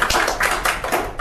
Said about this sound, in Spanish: ¡Aplauso, ¿no?, chicos!